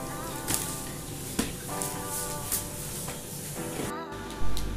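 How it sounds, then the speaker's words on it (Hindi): Chana dal vada fry in hot oil until golden, giving a steady, moderate sizzle with scattered crackles and a few louder pops. It drops out briefly near the end as a vada is moved. "और इसी तरह इसे भी दोनों तरफ से गोल्डन होने तक फ्राई कर लेंगे।"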